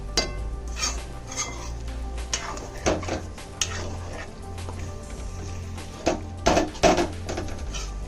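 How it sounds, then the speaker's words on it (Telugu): Gutti vankaya curry, a stuffed eggplant dish, stirred and mixed in a pan, with repeated scraping and clinks of a spoon against metal and a low steady simmer underneath, with no talk. "సో ఇలా బాగా మనం ఈవెన్గా మిక్స్ చేసుకోవాలి"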